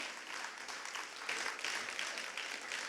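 A church congregation claps together in a continuous, dense wash of applause, moderately distant and fairly quiet, sustained for the whole stretch with no voices on top.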